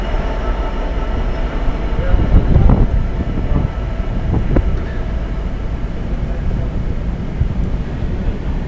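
A freight train rumbles past close by near Nuneaton, a loud, steady roar of wheels and wagons with rhythmic clatter building mid-pass, continuous throughout with no talk.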